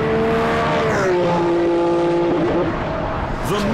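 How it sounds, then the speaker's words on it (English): Ferrari Enzo's 6-litre V12 engine roars loud and steady, a torrent of sound with a strong falling then holding pitch through a gear change, close and continuous throughout. "The monster making that torrent of sound is a 6-litre V12 that develops 650 brake horsepower."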